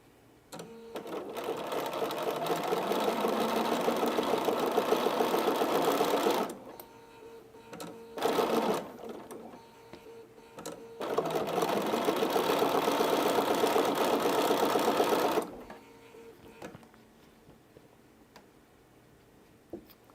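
A sewing machine stitches a Christmas quilt in two long, steady runs of close mechanical whirring, broken by a brief pause and a short burst, then fading to quiet room tone.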